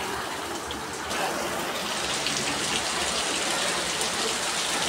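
Heavy morning downpour in a rural Bangladeshi setting, a steady dense hiss of rain that swells slightly after the first second and holds loud and continuous, with no voices.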